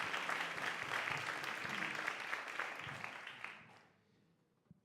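Steady applause from an audience fills most of the clip as a dense wash of clapping, then tapers off and fades to near silence, with one last stray clap.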